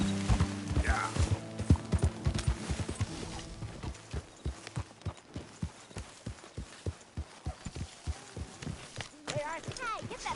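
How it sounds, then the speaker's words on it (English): Steady clip-clop of horse hooves walking, a regular rhythm of hoofbeats close by, with voices talking underneath at the start. "get that horse out of here"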